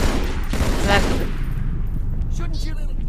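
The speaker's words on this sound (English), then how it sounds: "the gunfire tends to give it away when you're here" Rapid bursts of automatic and single-shot gunfire from Halo 2 crackle loud and close, dense through the first second, then continue as scattered shots and battle noise with some faint voices under the din.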